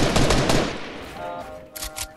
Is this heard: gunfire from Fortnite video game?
yes